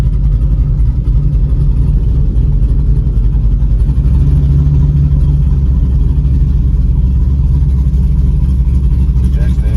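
A Dodge Dakota pickup truck's engine runs in the pits of a SummerNats drag-racing event, a close, steady low rumble with slight swells in revs throughout.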